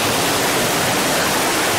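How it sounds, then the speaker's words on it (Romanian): Water released to rush through a fulling mill, a steady broadband roar like a waterfall or fast stream, loud and close, running unbroken with no voices. "Stai că mă duc să dau drumul la apă."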